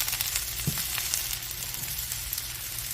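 Turkey, shredded cabbage and vegetables sizzle and fry in an oiled skillet, a steady close crackle with a faint scrape of stirring, no talking.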